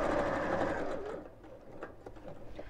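A sewing machine runs steadily while stitching a seam on a bead-handled purse, loud and close at first, then easing off into short uneven bursts toward the end.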